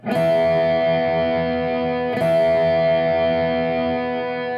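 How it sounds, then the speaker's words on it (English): An electric guitar note rings out with heavy distortion over a sustained drone, and a second note is struck partway through, both held and buzzing. "with the drone and the distortion going, you can really hear the grind of the notes"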